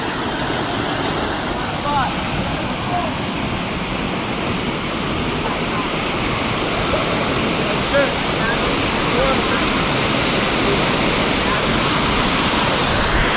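Hoopii Falls, a waterfall in Hawaii, gives a loud, steady roar of rushing, crashing water that fills the whole stretch without a break.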